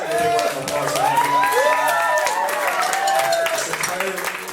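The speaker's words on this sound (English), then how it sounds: "So please give a big round of applause for them." A live audience at a school library performance claps and cheers for the sound and lights crew in a dense, steady wash of applause with voices whooping over it, lasting throughout.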